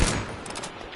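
Rapid gunfire from the shooter game Battlefield 5 bursts loudly up close, a dense fusillade of shots that keeps rolling through the whole moment without speech.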